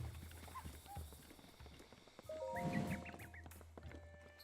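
Soft horse hoof clip-clops in the video game Breath of the Wild, mixed with faint game ambience, chimes and quiet tones, fairly low and distant throughout.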